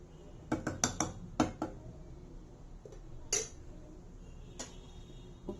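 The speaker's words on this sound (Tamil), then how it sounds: "ஸோ ஃபைனலாக இதை கொஞ்சம் நல்லா மிக்ஸ் பண்ணிக்கலாம்." A spoon stirs a milk and lentil mixture in a metal cooking pot in a home kitchen, making faint, irregular clinks and taps against the pot, close and quiet with no talk.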